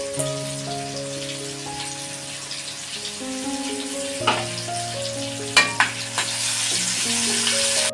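Whole cumin seeds and curry leaves frying in hot oil in a pan for an egg masala, a steady soft sizzle with a few sharp pops and spatters, close up, no talking.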